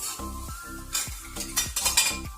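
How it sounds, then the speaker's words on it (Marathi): Ground spice paste for a crispy potato snack sautéing in a pan: repeated stirring scrapes over a soft sizzle, close up and fairly quiet. "याच्यामध्ये वाटलेलं हे चांगलं व्यवस्थित करून परतून घेऊ"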